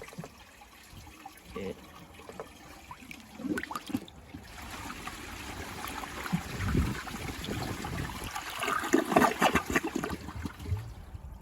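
A 1981 Eljer Emblem toilet on a flushometer runs water after overflowing, a steady rushing trickle that builds and grows louder and more turbulent toward the end, close by with a brief word spoken.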